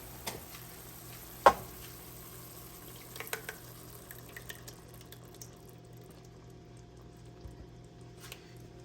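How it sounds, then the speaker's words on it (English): Shrimp and broccoli frying in a pan as sauce goes in, a faint steady sizzle with soft stirring and one sharp utensil clink early on, no voices. "now we're gonna add the sauce, a nice sauce to these"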